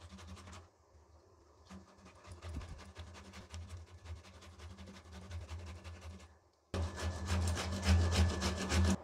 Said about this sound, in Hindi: अब मैं इसको कद्दूकस कर दूंगी।